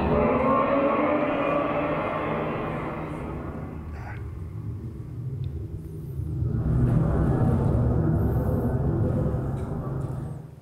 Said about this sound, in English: And that is the sound of the whole Earth shaking.